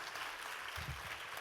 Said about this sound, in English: how about one more big round of applause?